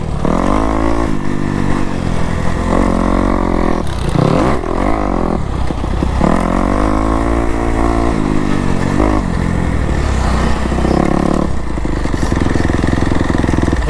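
A motocross dirt bike on a track at Durhamtown, its engine loud and close, rising and falling through repeated revs and gear changes.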